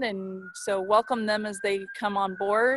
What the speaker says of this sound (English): And sorry about the sirens.